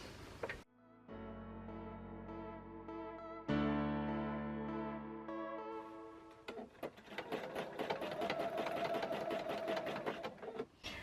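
A sewing machine zigzag-stitches a coiled rope bowl, first humming in steady tonal runs, then chattering rapidly and continuously close up for the last several seconds.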